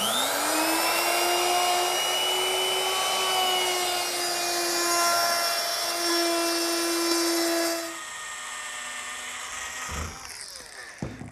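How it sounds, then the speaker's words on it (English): A power tool chamfers the edges of a four-inch-wide oak backsplash piece clamped in a vise. It gives a loud, steady high whine with a grinding edge for several seconds, then winds down and stops, followed by a few faint clunks. "I'm going to chamfer 3 edges"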